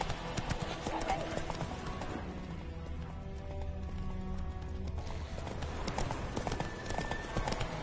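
Roach, the horse in The Witcher 3, trots along with a steady, continuous clip-clop of hooves, mixed with game music and a voice in the background.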